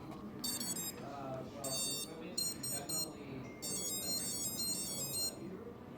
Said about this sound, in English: you'll see the ESCs beep and all of that while I go through it